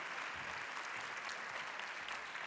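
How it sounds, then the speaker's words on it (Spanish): Steady, full audience applause filling a conference hall at the closing session of a congress in Aragon, dense and sustained with no pauses throughout. "Fuerte aplauso para Javier Olivera, por favor."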